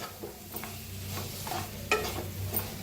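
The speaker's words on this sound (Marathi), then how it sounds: "1 मिनिटभर असंच भाजायचं" Green chillies roast in a pan with fennel seeds, cumin and coriander, giving a continuous sizzle broken by a few scraping stirs and clinks of a spoon, close up, with no voices.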